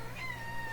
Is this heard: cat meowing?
yes